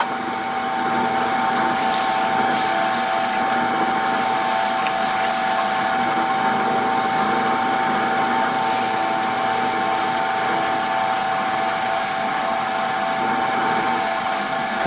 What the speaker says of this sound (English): Now I go through and I will sand all of these down as needed.